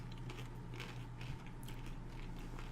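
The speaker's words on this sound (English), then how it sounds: "Oh, that's a good crunch. I like that crunch." Soft, close crunching bites into a crispy chicken taquito, a few brittle crackles over a low steady hum, quiet and without speech.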